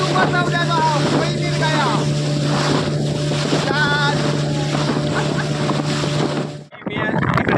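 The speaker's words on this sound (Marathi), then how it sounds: "बोटीच्या दोन्ही बाजूने कसं काय पाणी उडतं आहे ते बघा कारण वारा सुद्धा आहे" A fishing motorboat's engine drones loudly on the Arabian Sea as water splashes and wind buffets the microphone, with voices faintly audible; the noise drops briefly near the end.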